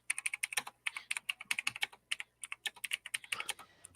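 Rapid, dense clatter of computer keyboard keys being typed at high speed, a continuous run of sharp clicks close up with no voices.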